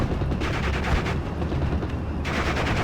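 An Sd.Kfz. 222 armoured car fires its autocannon in a Normandy 1944 battle. Rapid bursts and heavy reports crackle continuously, dense and loud, layered over a rumbling battlefield din with no voices.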